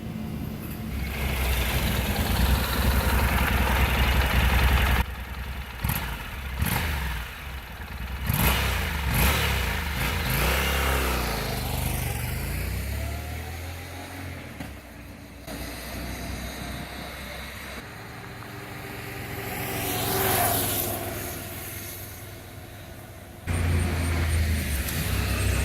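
A Honda NC700X motorcycle on its stock exhaust runs with a continuous, loud engine drone that rises and falls as it revs, with wind noise over it and no talking.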